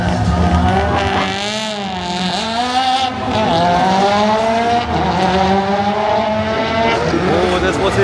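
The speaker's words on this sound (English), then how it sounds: "Check out some drag racing while I'm here. Oh, got two Evos." Two Mitsubishi Evo cars at a drag racing event, loud engines revving and climbing through gears, a roaring continuous race-car drone close by with a squeal of tires.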